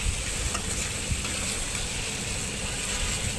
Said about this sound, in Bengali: এখন এগুলো লার্কি চুলা রান্না করব।